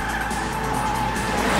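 A Mitsubishi Lancer Evolution race car in an anime tuned to about 450 horsepower with a high final gear, its engine roaring steadily at high revs with a loud continuous drone that swells slightly toward the end.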